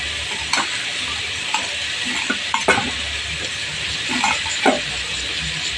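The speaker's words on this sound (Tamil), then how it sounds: "ஸோ இதெல்லாம் வந்து நல்லா வதங்கட்டும்" Onions and spices sautéing in a pan for mushroom biryani: a steady sizzle with intermittent stirring scrapes and taps of a spoon against the pan, close up.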